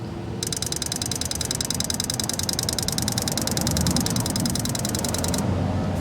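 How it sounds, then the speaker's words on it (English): Car evaporative purge valve (VSV) being switched by a scan tool test: a rapid, even series of sharp mechanical clicks lasting about five seconds over a steady engine idle, close and clear. "You hear that series of clicks?"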